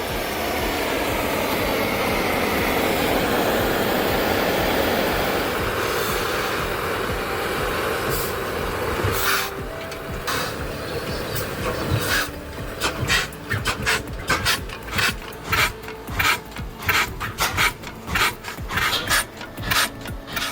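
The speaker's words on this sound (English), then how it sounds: "Firing up the Big Austral, a 20-horsepower oil engine from Ronaldson Brothers in Tippett, built around 1932" A Ronaldson Brothers Big Austral 20-horsepower oil engine, built around 1932, is cranked into life: a rushing, rasping turnover gives way to hesitant irregular firing thumps that settle into a steady, fairly rapid beat.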